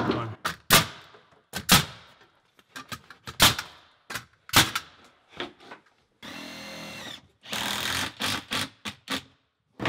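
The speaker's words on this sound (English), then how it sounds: "I'm gonna use a nail gun" A nail gun fastens quarter-inch plywood to wall studs during a bathtub installation, firing a series of loud, sharp, irregular cracks, with a short stretch of steady hissing whir in between.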